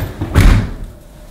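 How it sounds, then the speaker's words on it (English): A Blomberg LDF30110 13-place-setting dishwasher door is shut with a single firm, close thud, followed by a short fading resonance. "all we have to do now is close the door and start the dishwasher"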